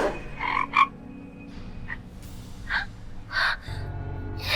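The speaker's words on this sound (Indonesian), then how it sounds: "Kodok hijau? Kodok. Kodok keluar," Green frogs croak in a run of distinct, fairly loud calls spaced unevenly over a steady low background hum, with no talk.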